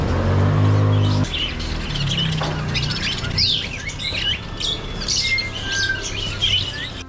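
Several birds chirp and tweet in quick, overlapping calls against a low background hum, with no one talking.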